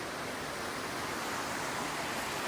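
A large waterfall on the Appalachian Trail in Virginia's Three Ridges area, a steady full-spectrum roar of rushing, crashing water, loud and unbroken, with no voices.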